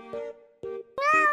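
A cat meows three times indoors in a house, the calls close and clear, the last one longer and louder than the first two.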